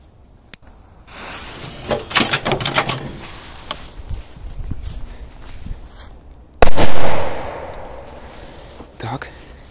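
A firecracker goes off inside or beside a washing machine with a sharp, loud bang that hisses and crackles as it fades, after earlier scattered pops and rustling nearby; a voice speaks briefly.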